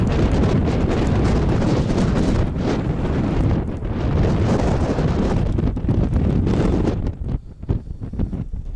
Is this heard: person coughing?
no